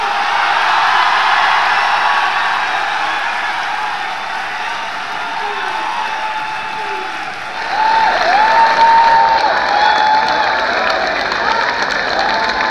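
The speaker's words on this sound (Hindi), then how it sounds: "ज़ोरदार तालियों से इस्तकबाल कीजिए डॉक्टर राहत इंदौरी साहब।" Loud, sustained applause and cheering from a large crowd at a grand Urdu mushaira poetry gathering, welcoming the poet Dr. Rahat Indori, swelling even louder partway through.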